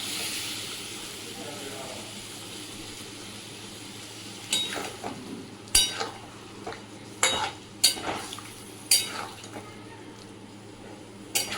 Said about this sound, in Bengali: আমি ভালো করে নেড়ে চেড়ে নিয়েছি